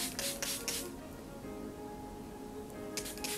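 Ink sprayed by hand onto an art journal page, several short hissing bursts close by in the first second, a quiet stretch, then another burst near the end.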